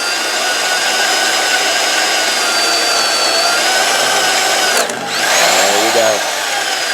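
A steady high-pitched power drill whines continuously while drilling out a stripped head bolt hole in a big block Chevy engine block, then briefly cuts out and restarts with a lower, strained tone near the end.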